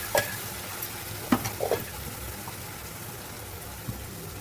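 Onion-tomato masala roasting in oil in a pan, a steady soft sizzle with a few brief scraping stirs near the start, close up and alone.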